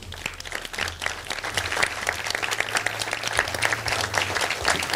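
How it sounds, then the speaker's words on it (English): A crowd applauds at a Walmart store grand opening in Hawaiian Gardens, with sustained, lively clapping that stays dense and fairly close for the whole stretch. "Please give yourself a round of applause."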